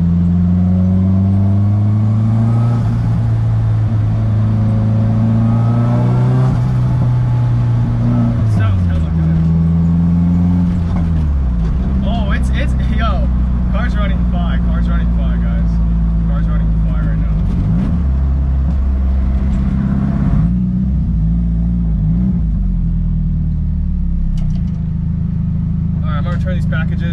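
A tuned car with a turbo revs and accelerates hard during a pull, a loud close engine drone rising and falling in pitch, with flutter-like chatter on lift-off, while people talk over it inside the car.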